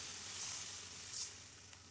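Bata fish curry in a kadai gives off a faint, steady high sizzle and hiss, with a slightly louder swell partway through and no talking.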